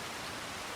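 Rain in Farming Simulator 25 pours down as a steady, even hiss, with no breaks and no talk in the brief moment.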